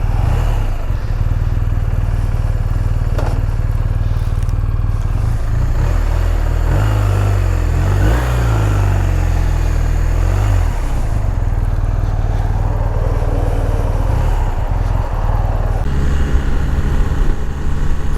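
A 2020 BMW R1250 R motorcycle engine rumbles steadily and loud up close, with a brief throttle blip swelling its low drone midway before settling back to a constant running note.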